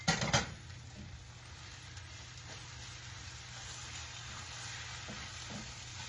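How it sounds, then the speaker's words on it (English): An egg scrambles into fried rice in a frying pan, opening with a loud clatter of the pan, then settling into a soft, steady sizzle with faint stirring scrapes, quiet and close. "Now I'm going to throw this egg in here for a little extra added protein."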